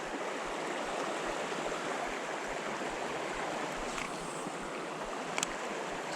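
Fast-moving water in an Appalachian mountain stream rushes steadily as a dense, close hiss and gurgle, continuous and fairly loud with no voices over it.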